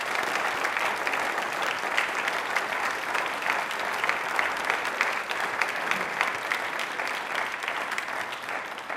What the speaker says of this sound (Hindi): तालियां एक बार जोर से इनके लिए बजा दीजिए।